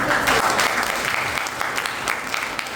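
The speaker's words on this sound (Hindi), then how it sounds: "ताली बजाओ ये हंसी में ताली" Applause from a business seminar audience, a dense crowd clapping steadily throughout, with some sharper individual claps standing out near the front.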